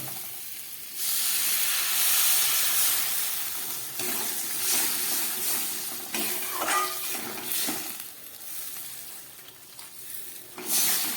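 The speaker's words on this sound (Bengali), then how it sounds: "মশলাটা একদম ভালোভাবে কষে গেছে এবার আমি এর মধ্যে দিয়ে দিচ্ছি জল" Water poured into hot, well-sautéed spiced masala for a rohu fish roe curry bursts into a loud, steady hissing sizzle with steam, tapering slightly over about ten seconds with faint pan clatter.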